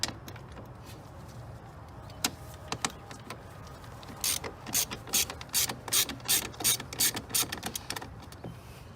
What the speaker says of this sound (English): I'm going to use this again, E-tool, to take this bolt.